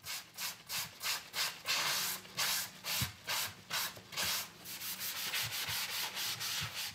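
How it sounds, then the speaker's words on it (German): Hand sanding and rasping of a wooden western guitar neck in a workshop, close, even back-and-forth strokes of abrasive scraping in a steady rhythm, about two per second, with a few light knocks and no talk. "An einem einzigen Hals raspelt, hobelt und schleift Tobias Ahlke bis zu einem halben Arbeitstag"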